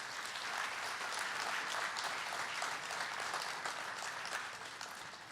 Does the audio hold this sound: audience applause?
yes